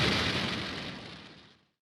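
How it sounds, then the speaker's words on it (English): A SpaceX rocket carrying the Astra 1P satellite ignites and lifts off: a loud, broad roaring burst hits at once, then steadily fades away over under two seconds. "Ignition. And lift off."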